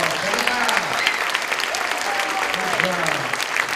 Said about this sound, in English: Let's give another great big round of applause.